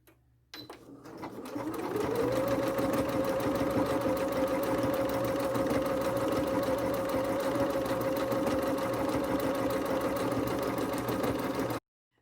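Sewing machine stitching an appliqué, running at a steady, fast, even hum for about ten seconds after a brief start-up whir, then stopping abruptly, close and alone.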